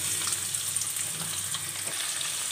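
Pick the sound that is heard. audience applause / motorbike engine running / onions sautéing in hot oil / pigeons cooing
onions sautéing in hot oil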